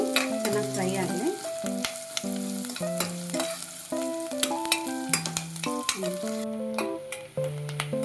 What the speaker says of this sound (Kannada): ಈರುಳ್ಳಿಯನ್ನು ಉದ್ದುದ್ದ ಕಟ್ ಮಾಡ್ಕೊಂಬಂದಿದ್ದೀನಿ, ಅದನ್ನು ಹಾಕೊಳ್ಳೋಣ. ಈರುಳ್ಳಿ ಚೆನ್ನಾಗಿ ಫ್ರೈ ಆಗಿದೆ.